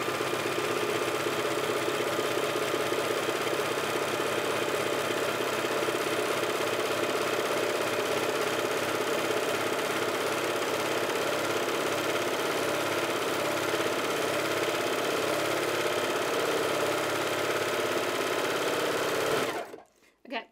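A serger sewing machine runs continuously while stitching around a fabric edge, loud and steady with a fast mechanical hum, then stops abruptly near the end.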